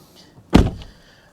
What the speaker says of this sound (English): But yeah, if I close this door,